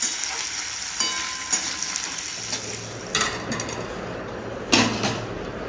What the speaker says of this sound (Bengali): ভালো করে ভাজলাম